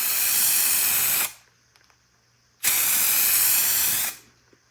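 Spray paint for a car is sprayed onto a test card in two steady, loud hissing bursts of roughly a second and a half each, separated by a short quiet pause.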